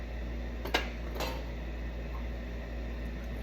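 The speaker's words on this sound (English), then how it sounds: "Now we'll take this excess lead that we used to preheat the sides with" Leftover molten lead, kept at 850 degrees for casting homemade jig heads, is handled and set back in the hopper, giving two bright metallic clinks over a steady low hum; no one speaks.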